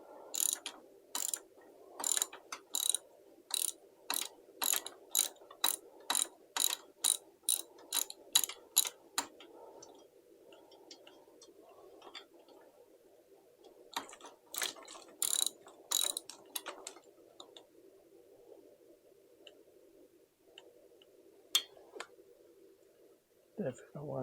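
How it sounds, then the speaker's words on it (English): A T-handle socket ratchet turns a bolt on a high-compression Royal Enfield 650 engine build, giving runs of rapid, close mechanical clicks in bursts with pauses between, and a soft voice talks alongside. "I had to hold my T-handle socket"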